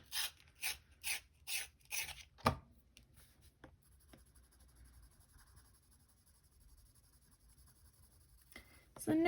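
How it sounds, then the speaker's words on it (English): A colouring pencil being sharpened gives a run of five or six rhythmic rasping strokes, close and crisp, then a sharp knock and a long quiet stretch before another burst of scraping. "Let me sharpen this again."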